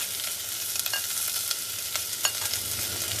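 Onion and curry leaves fry with ginger in a hot pan, giving a steady bright sizzle with occasional pops and stirring scrapes, close and continuous with no talking.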